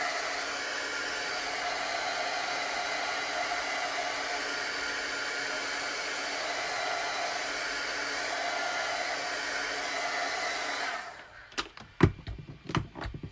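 A hair dryer blows steadily on chalk paste over a board, a loud constant close whoosh for about eleven seconds, then cuts off into a few sharp knocks and handling clatter.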